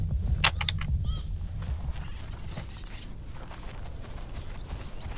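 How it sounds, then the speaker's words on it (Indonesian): A character rides a horse in a Conan video game, with fairly soft, steady clip-clop hoofbeats carrying along beneath light ambient game sound. "Si Goze lagi jalan-jalan naik kuda dia."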